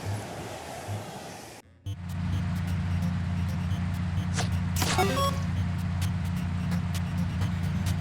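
A car driving in the video game Sam & Max: Beyond Time and Space, a steady engine hum that starts after a brief silence, with a couple of short sweeping effects over it and no talk.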